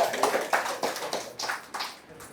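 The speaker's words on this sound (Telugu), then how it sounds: "అందరు సహా చప్పట్లు పెట్టండి అమ్మా" Audience clapping at a gathering, a series of roughly ten sharp claps in a loose, uneven rhythm, moderately close, alongside some speech.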